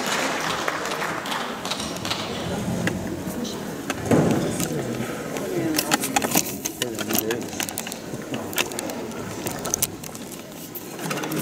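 A concert audience applauds a conductor being welcomed at an anniversary performance by an arts troupe, a steady wash of clapping that goes on throughout as an announcer speaks over it.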